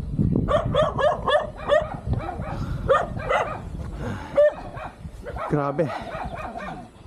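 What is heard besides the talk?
dog barking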